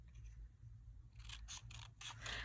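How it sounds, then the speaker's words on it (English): Scissors cut out a paper image at close range, heard as a few quiet, crisp snips in a row over a faint low hum. "So I'm just cutting this out."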